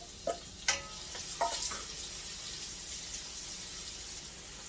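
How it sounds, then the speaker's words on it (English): Onions go into hot oil in a cooking pot, giving a steady hiss of frying with a few short clatters at the start, heard close up with no talking. "So now let's add our onions into the oil."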